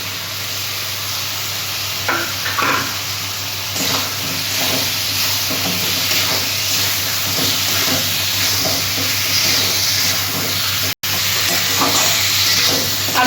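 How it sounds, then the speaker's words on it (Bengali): Potato and pointed gourd sauté with spices in a pan for a prawn curry, giving a steady close sizzle with scraping stir strokes throughout and a brief drop-out near the end. "আলু পটল আমি কষিয়ে নিলাম মশলার সাথে।"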